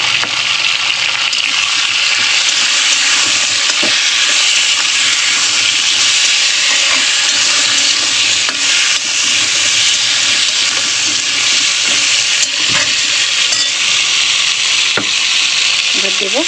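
Potatoes and chopped tomato with salt sizzle steadily in hot oil in a pan, a dense continuous frying hiss throughout with a few faint clinks of a utensil, no voices.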